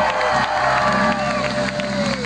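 A live concert crowd at Gru Village in Torino cheers, whoops and claps for the singer, loud and dense, with shouted voices and clapping mixed together.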